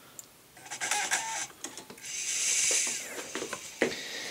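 A CD/DVD-ROM drive reads a Windows Vista installation DVD, giving fast mechanical whirs, ticks and seeking clicks in short bursts, close and fairly quiet.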